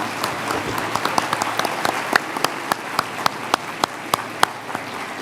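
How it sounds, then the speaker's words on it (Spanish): Audience applause at a public event in Argentina, a steady wash of clapping with sharp, distinct claps standing out from nearby hands at a fairly regular pace throughout. "Bueno, un aplauso."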